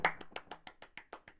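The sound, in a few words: hand clapping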